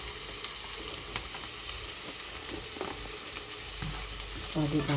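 Vegetables sauté in butter in a large wok-style pan for a chop suey-style stir-fry, giving a steady close sizzle with occasional stirring scrapes, while a voice briefly speaks over it.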